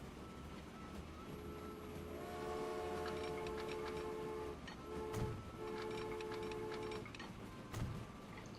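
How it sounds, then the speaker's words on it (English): A train departs in the railway simulation game Transport Fever, with sustained horn-like tones over a low rolling rumble, played quietly with a few soft clunks. "And the train is going."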